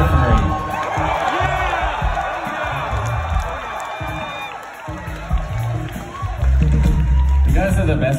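A concert crowd at a rock club cheers and whoops for a band taking the stage, loud, dense and sustained, with shouts rising and falling over a continuous roar.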